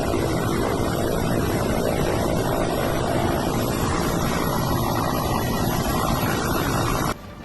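A rescue helicopter hovers over flood-hit Himalayan hills in Himachal while lifting a woman on a rope, its rotor and engine roar loud and unbroken with heavy wind buffeting before an abrupt cut near the end.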